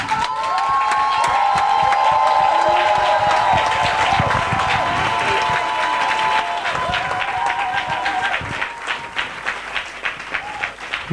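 Church congregation at a Sunday service breaking into loud, sustained applause and cheering shouts, clapping strongest at first then thinning into scattered claps toward the end.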